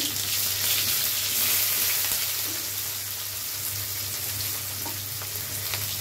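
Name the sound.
chopped onion sizzling in oil with five-spice tempering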